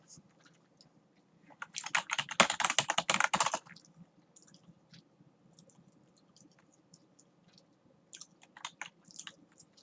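Burst of rapid keystrokes on a computer keyboard lasting about two seconds, close and fairly loud, followed by quieter scattered clicks and a few more brief key taps near the end.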